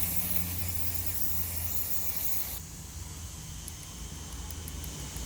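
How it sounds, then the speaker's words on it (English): A steady hiss of spray rinses out a Toro mower's Briggs carburetor up close, continuous and fairly faint, shifting slightly in tone partway through. "I'm just going to rinse this out."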